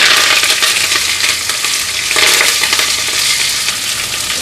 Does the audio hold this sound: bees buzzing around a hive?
no